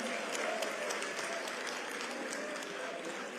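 A crowd at an Azimio La Umoja press briefing during the Kenyan elections claps for a woman, giving sustained, fairly distant applause with a steady patter of many hands and voices mixed underneath.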